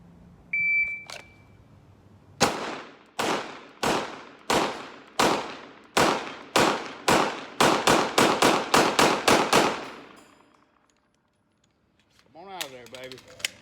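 A handgun fires during a range drill, with one or two rounds on each target and a magazine change: about fifteen sharp, loud shots, spaced at first and then faster, after a timer beep, followed by a short pause and brief talk.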